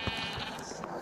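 A sheep on a farm bleats close by in a short, steady, nasal call that fills the whole moment, with faint background noise underneath.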